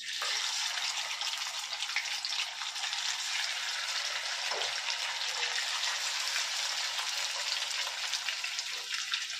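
Katla fish pieces fry in a pan over a low gas flame, giving a steady, dense hiss of sizzling oil that runs unbroken throughout, close and fairly loud, with no talking.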